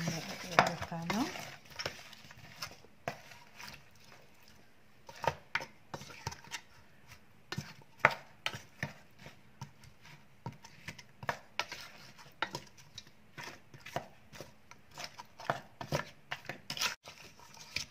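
Beef feet stew with chickpeas stirred in a pot, with scattered soft scraping and knocking of a spoon against the pot over a low background, faint and irregular throughout.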